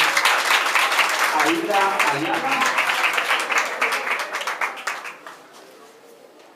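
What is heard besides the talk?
applause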